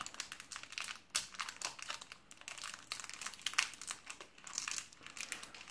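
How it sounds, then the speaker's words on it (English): Brittle, 27-year-old Star Wars CCG booster pack wrapper crinkling and crackling as it is opened, with steady close rustling and sharper crackles throughout. "These wrappers getting so brittle, it's hard to open them without tearing the front."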